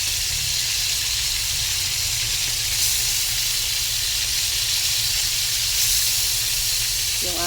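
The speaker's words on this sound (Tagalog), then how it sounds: "Dito muna tayo sa piniprito nating isda." Fish fries in a non-stick pan with a little oil, giving a loud, constant steamy hiss and sizzle that runs unbroken from start to finish.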